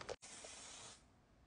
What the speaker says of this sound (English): I'm going to use this one size setting spray